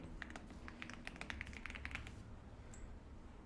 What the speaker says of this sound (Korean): 자, 그 다음에 키보드에서 F6을 눌러줄게요.